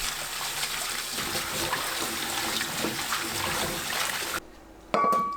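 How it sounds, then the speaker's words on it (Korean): Trimmed perilla stems washed in water for kimchi: a steady splashing and sloshing close by, continuous for several seconds, then a brief drop before a final splash. "손질한 깻단을 여러 번 씻어서 준비합니다"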